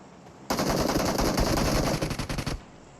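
A sustained burst of rapid automatic gunfire from the mobile game PUBG Mobile lasts about two seconds, loud and close, then cuts off abruptly, with no speech over it.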